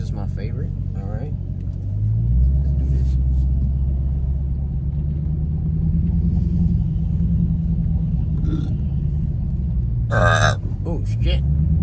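A Dodge Challenger in track mode, shifted with paddle shifters, gives a deep, loud engine rumble that swells as it accelerates and holds strong throughout, with voices talking over it.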